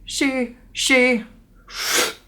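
On a recorded vocal track, two short sung syllables are followed by a sharp, breathy intake of air, close and clear with nothing behind it.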